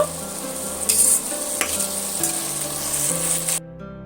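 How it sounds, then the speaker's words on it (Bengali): Potatoes with ginger and garlic are stir-fried in a pan, producing a continuous close sizzle with scraping stirs. A tonal hum runs underneath, and the sound drops away abruptly near the end. "এইভাবে আমি কষিয়ে কষিয়ে রান্না করব"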